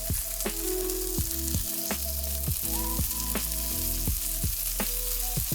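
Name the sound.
buffalo burger patties with cheese frying in pan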